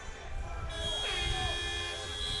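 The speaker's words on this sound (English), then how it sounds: "he was defeated by the hooter and the buzzer and the whistle and everything else. That's the end of the first period." At a beach soccer match, an end-of-period hooter and buzzer sound as steady, sustained electronic tones over crowd noise, with a rising whistle-like sweep in the middle.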